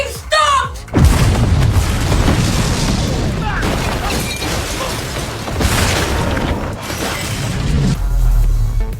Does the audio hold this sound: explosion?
yes